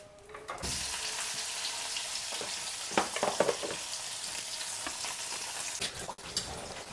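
Food sizzles and crackles in a hot pan during home lunch cooking, a steady frying hiss with brief stirring clatters.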